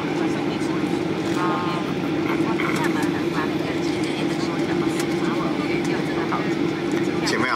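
Inside a plane at Xiamen Gaoqi airport, a loud constant engine hum and cabin drone runs without a break, with some rattling, and people talking underneath.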